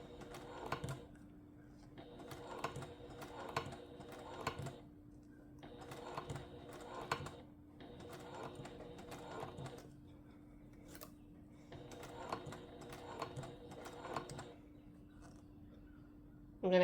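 A sewing machine stitches a Betsy Bowler bag at slow speed, running in short bursts of rapid needle clatter separated by brief pauses, quiet and close against a steady background hum.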